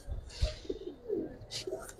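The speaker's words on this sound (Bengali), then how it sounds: "ওই যে পিছনে 3 পিস কবুতর" Pigeons in a coop of Bangladeshi giribaz and colour breeds for sale, soft low cooing close by in short murmuring phrases, with faint background noise.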